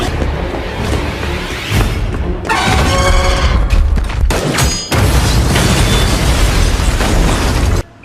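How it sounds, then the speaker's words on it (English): A gas cylinder filled with magnesium oxide bursts after being shot, a loud booming explosion with sharp crackling pops that roars continuously for several seconds before cutting off abruptly. "Will successfully destroyed the Reaper by shooting a gas cylinder filled with magnesium oxide."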